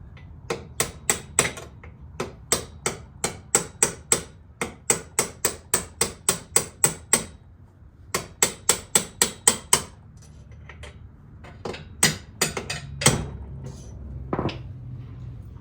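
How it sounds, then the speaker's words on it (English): A hammer drives a drift to knock out a part on a 2008 Suzuki Burgman 400 scooter: sharp metallic strikes in quick rhythmic bursts, about thirty blows in groups with brief pauses, close and loud, followed by a few scattered heavier knocks. "I'll grab a drift and a hammer."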